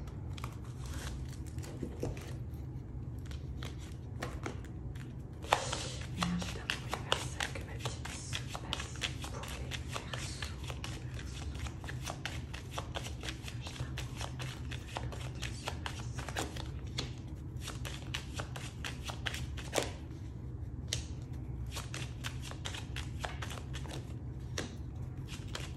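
A 32-card deck is shuffled and handled continuously at close range, giving soft riffling and papery flicks over a steady low hum, with no talk.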